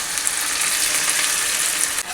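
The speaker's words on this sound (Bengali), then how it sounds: "এরপর আমি পটলের পেস্টটা এর মধ্যে সব দিয়ে দেবো।" Pointed gourd paste frying with onions and green chillies in a pan, giving a steady, loud, even sizzle that fills the whole stretch without pause.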